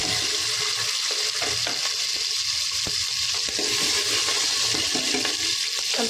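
Garlic cloves, green chillies and curry leaves fry in hot oil with a loud, continuous close sizzle, broken by faint clicks and stirring.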